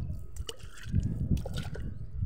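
Water splashes and trickles onto mango plants outdoors, a steady close pouring with brief louder splatters, no talking.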